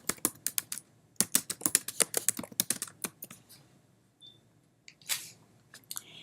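Quick bursts of keystrokes on a computer keyboard while text is typed into a layout program, close and crisp, with short pauses between clusters and a few isolated clicks near the end.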